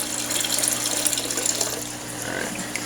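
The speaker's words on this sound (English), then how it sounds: "I'm going to dump out some of this excess water in my bucket down here" Excess water poured out of a bucket into a fish-treatment setup, a steady splashing, gushing stream running close and fairly loud for about three seconds with no talking.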